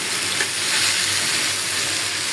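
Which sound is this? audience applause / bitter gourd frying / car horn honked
bitter gourd frying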